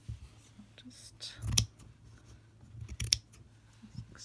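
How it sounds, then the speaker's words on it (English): Scissors snip off a piece of stitched card for a slow-stitch Valentine's heart fold-out card, two distinct close cuts with a few soft rustles and faint whispery sounds between them. "start by cutting off a bit of it"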